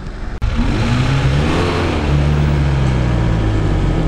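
A Lada Niva engine revs hard while straining against another short-wheelbase Niva in an off-road tug-of-war on a dynamic tow rope, a loud, close, sustained drone with the pitch rising and wavering under load, no voices.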